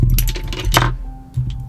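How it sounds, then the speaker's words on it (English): Nail polish bottles shoved back across a desk while making room during a manicure, a close cluster of glassy clinks and clatter with a brief rattling burst, then quieter knocks. "That's the sound of polish just getting pushed back on my desk"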